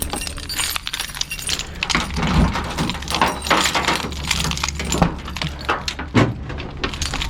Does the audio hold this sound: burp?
no